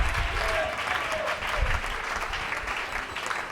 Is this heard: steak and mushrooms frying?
no